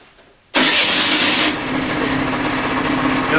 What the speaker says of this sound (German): Selbst wenn wir jetzt mal den Roller anmachen.